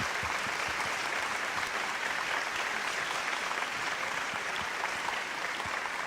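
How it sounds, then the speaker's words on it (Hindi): Studio audience on a Hindi TV talk show giving loud, sustained applause for an arriving guest, dense clapping with no pause. "जोरदार तालियां अश्विनी के लिए"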